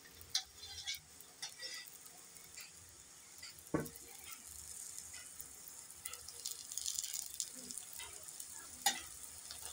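An aloo paratha fries in oil on a pan, giving a soft continuous sizzle with scattered crackles and a few light clicks of utensils, fairly quiet.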